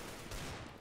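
Short burst of video game gunfire in a competitive shooter, a steady crackle with one slightly heavier shot in the middle, with no voices.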